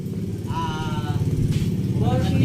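A 4032 boat engine with its original transmission runs steadily nearby, a rumbling low drone with a rhythmic pulse, while voices briefly talk over it.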